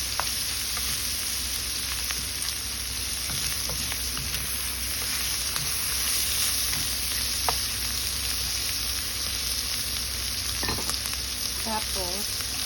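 Bamboo shoots simmering in coconut milk in a pan, a steady close bubbling sizzle with a utensil stirring and scraping through it, continuous and fairly loud, no talking.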